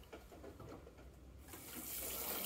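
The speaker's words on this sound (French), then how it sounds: "arrosé" Water poured from a can or hose onto freshly sown onion and carrot seed rows inside a greenhouse, a soft steady splashing and hiss that swells and grows fuller toward the end, heard alone.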